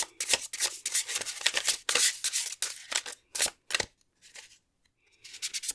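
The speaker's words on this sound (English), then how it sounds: "But I am going to shuffle one more." Tarot cards riffled and slid together in quick bursts of papery flicking, close by, with a few short pauses between shuffles.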